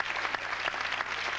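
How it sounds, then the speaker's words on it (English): Studio audience claps for a couple married 35 years, a steady, fairly loud burst of applause that fills the short moment without speech. "Round of applause for 35 years."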